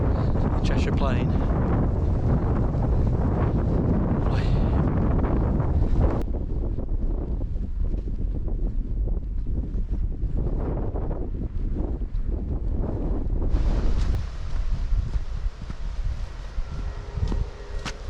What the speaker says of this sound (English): A bit windy up here.